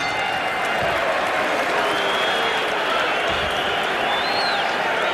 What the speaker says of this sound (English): the crowd is applauding the courage of Steve Zouski as much as they're applauding the efforts of Mike Tyson